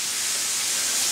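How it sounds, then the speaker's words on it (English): Pork sizzles as it sautés in a hot pan, a steady, even hiss of frying with no talk over it. "Okay, it's starting to sizzle."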